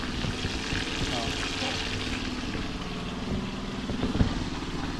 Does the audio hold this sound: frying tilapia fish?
yes